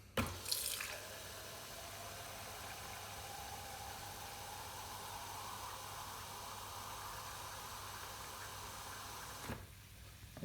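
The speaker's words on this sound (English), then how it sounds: "place the glass underneath the valve and pour one full glass" A drink pours steadily from a dispense valve into a glass on cooler dispense equipment, a faint continuous liquid hiss lasting several seconds after a brief clink, then stopping abruptly.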